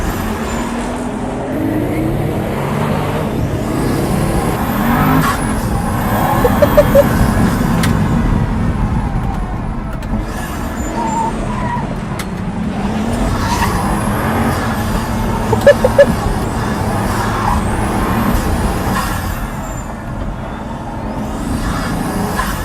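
A two-wheel-drive Pagani supercar being driven hard on a road, its engine a loud, continuous roar that surges and fades with throttle throughout, with a few sharp peaks.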